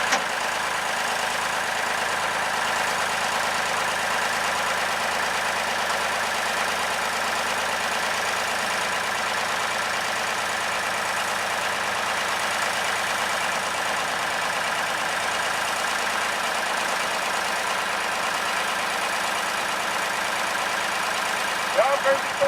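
The engine of an SAR100 drill rig idles at low revs. It makes a steady, even hum that holds unchanged for more than twenty seconds, with no breaks or surges.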